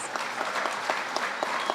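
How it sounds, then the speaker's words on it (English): Applause for a police academy graduating class at a graduation ceremony, a steady dense patter of many hands clapping with occasional sharper claps, moderately loud and continuous throughout. "Give them another round of applause."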